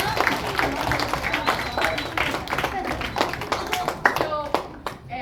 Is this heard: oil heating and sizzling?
no